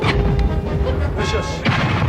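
Cannon fire on the Takeshi's Castle game show comes as dull booms inside a constant roar of crowd and background noise, with a couple of heavier thuds standing out.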